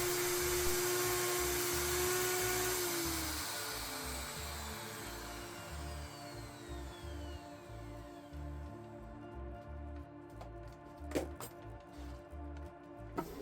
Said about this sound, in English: It's a bevel bit, and I'll just create the hole in the plexiglass.